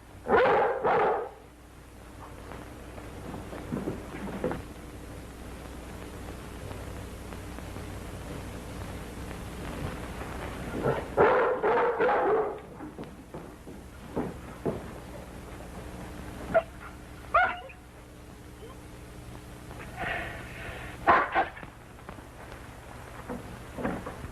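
A dog barks outdoors in a few separate bursts spread over a steady hiss of wind or rain, fairly distant, with no one talking.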